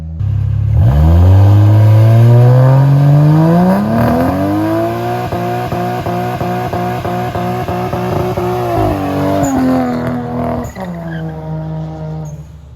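A car engine revs hard, then launches with a loud climbing roar through rising pitch and gear changes, up close and dominant.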